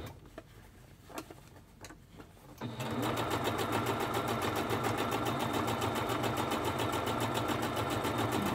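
Sewing machine stitching a pleated fabric face mask, a soft rapid rhythmic whirring that starts after a few light handling sounds and then runs evenly and close until the end.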